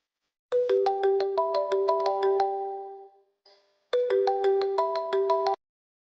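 A bright, melodic phone ringtone chimes in a repeating tune for an incoming call, pausing briefly before the pattern starts again, clear and close with no talking.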